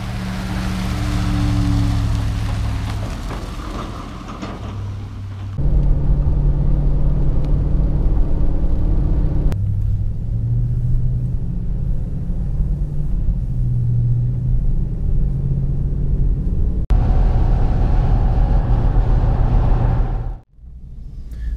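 A tan pickup truck hauling Caterpillar D2 bulldozer parts drives along with a steady low engine and road rumble, the drone shifting in pitch as it moves through gear changes, with wind and tire noise and a brief dropout near the end.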